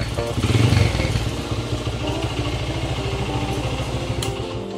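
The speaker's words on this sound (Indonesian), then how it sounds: "Bunyi knalpot coba kita dengerin." A 2005 Honda GL Max motorcycle in original condition idles close by with a smooth, steady, rapid exhaust putter that swells briefly at the start and then runs evenly.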